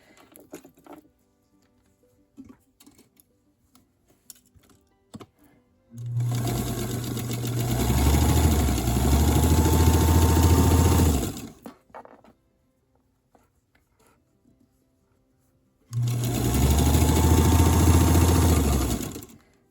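Sewing machine stitching fabric strips from a scrap bag in two bursts, a loud steady mechanical whir with rapid patter, separated by a quiet pause that holds small handling clicks.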